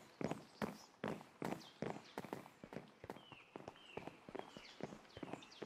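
Rhythmic clip-clop of horse hooves walking at a steady pace, clear and close, with a slightly synthetic, game-like quality.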